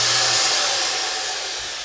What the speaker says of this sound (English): It sucks up everything you're sweeping in that direction